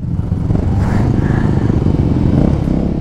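A Voge motorcycle, one of the new 300cc models, runs on an open road with a loud, steady engine drone and slight rises in revs, close and continuous for a few seconds with no talking.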